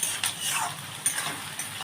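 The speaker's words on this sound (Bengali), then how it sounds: "আমি ঢেলে দিলাম এর মধ্যে চিংড়ি মাছটা একটু হবে ভাজা হবে" Prawns coated in salt and turmeric fry in a pan with a loud, continuous crackling sizzle up close, with a few brief sharper pops and no voices.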